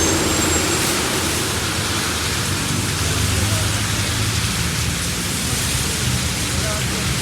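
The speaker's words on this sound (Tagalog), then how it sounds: "kasi lakas ng ulan" Heavy rain pours down during a landslide on Ortigas Extension in Taytay, Rizal, a loud, unbroken roar of downpour filling everything from start to finish.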